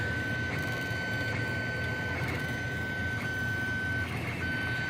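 A 3D printer running at 45% of full speed while printing an M1911 handgun model: a steady, close whine with a thin high tone and soft rhythmic stepper-motor pulses over a constant low hum, with no voices.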